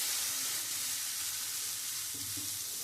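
Chicken pieces with spices frying steadily in a pan, a continuous soft sizzle with a few low stirring knocks, alone with no voices.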